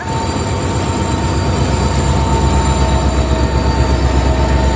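An Indian Railways WDG4 diesel locomotive hauls a heavy train past close by, a loud steady roar of engine rumble and wheels with faint metallic squeal, no voices.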